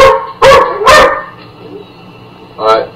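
A dog barks three times in a quick, loud, close burst, then gives one more bark after a pause, with faint background murmur between the barks.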